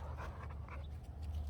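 Several dogs panting and snuffling in rough, boisterous play, a steady breathy rasp close by with low rumbling underneath, no talk.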